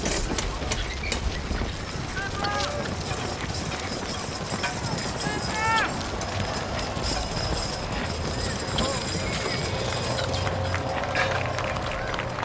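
Draft horses pull a weighted sled at a county fair, with hooves clopping and chains jangling amid a busy outdoor crowd and an announcer talking over the din, sounds at middle distance.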